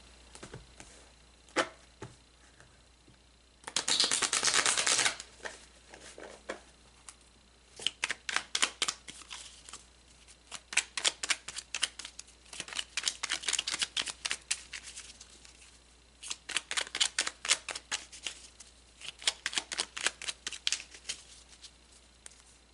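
Tarot cards being shuffled and drawn, a brief riffle followed by repeated quick bursts of card flicking and slapping, close and crisp against a quiet background.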